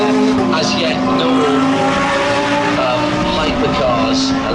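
GTP prototype race cars run during practice at Watkins Glen, a sustained, loud engine drone with shifting pitch that carries under continuous commentary.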